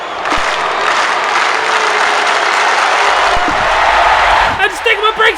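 Arena crowd in a WWE 2K wrestling match applauding and cheering in a dense, steady roar, with a commentator's voice rising over it toward the end.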